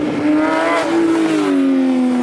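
A loud, close Dodge Hellcat muscle-car engine revs with a strong harmonic roar at a car meet, pitch rising then sliding back down as it passes, no speech.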